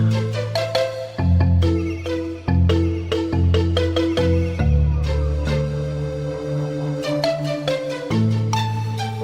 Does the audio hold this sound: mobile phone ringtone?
yes